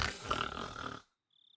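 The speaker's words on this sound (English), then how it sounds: "Sadako's snoring sounded so subtle when I stood by the window." Snoring sound effect from the video game Higurashi: When They Cry: a single rough, growly snore lasting about a second, then silence and a thin, faint tone.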